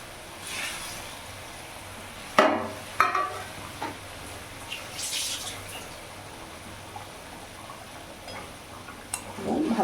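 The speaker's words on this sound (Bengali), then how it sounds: "ভালোভাবে ঝোলটা ফুটে গেছে, এরই মধ্যে এক এক করে আমি এবার ডিমগুলো ছেড়ে দেবো।" Egg curry gravy bubbling in a pan as eggs are slipped in one by one, giving a steady soft simmering texture broken by a few sharp plops and clatters near the start, with faint talk in the background.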